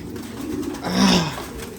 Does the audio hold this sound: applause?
no